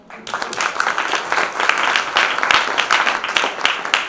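An audience at a public event in a Paris town hall breaks into loud, dense applause, many hands clapping continuously at close range from start to finish.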